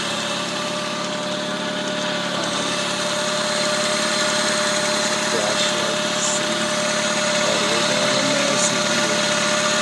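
A freshly started engine with a leaking exhaust and a cracked manifold idles steadily nearby, giving a constant buzzing drone with faint ticking throughout.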